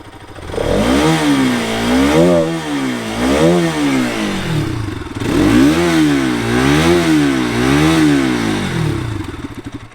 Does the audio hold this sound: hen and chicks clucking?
no